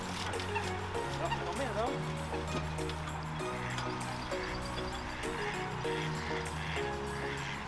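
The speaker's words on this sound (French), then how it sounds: "Il n'y a que des canards tout le long" Several ducks honking and quacking in repeated bursts over a steady background hum and running water, with a person talking nearby.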